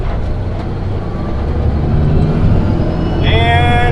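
A truck hauling malt barley across central Montana drones loudly and steadily up close as it climbs through the gears, its engine noise filling the cab, with a brief higher tonal whine near the end.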